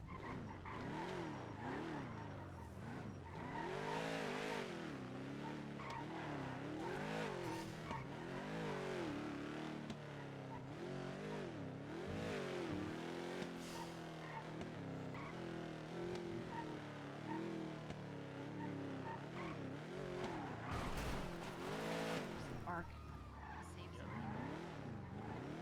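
Car engine revving and tires skidding in a GTA NoPixel roleplay session, the engine pitch rising and falling in repeated sweeps with tire squeal, loud and continuous, with people talking over it throughout.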